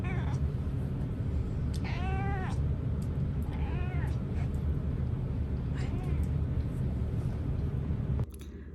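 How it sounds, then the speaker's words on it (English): A cat meows several times, close and clear, over a steady low hum of background noise, with short pauses between the cries. "It's just been meowing"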